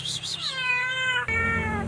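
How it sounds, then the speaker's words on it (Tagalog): Pet cat giving a loud, close, drawn-out meow with a bright wavering pitch, briefly breaking before trailing on. "Nandito pa naman po yung pusa."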